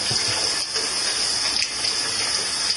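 Tap water gushes steadily as a part from a twin-gear juicer is rinsed out, a close, constant splashing rush lasting a few seconds.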